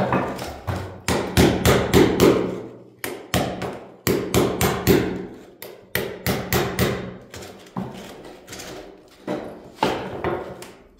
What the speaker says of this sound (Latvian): tagad kaltiņu sīt ārā